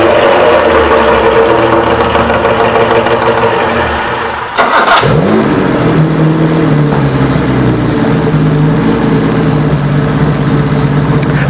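A vintage British sports car with twin SU carburettors and an overhead-cam engine runs loud and close, a brief cut-out and restart midway, then settling into a steady, throbbing rev.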